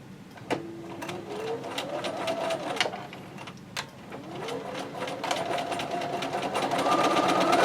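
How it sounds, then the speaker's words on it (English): A sewing machine runs in bursts while stitching a quilt top of Lulu Roses fabric, motor whirring up in pitch with rapid needle ticking, pausing briefly before a longer run that builds in speed and loudness. "And I'm going to sew all the way to the end."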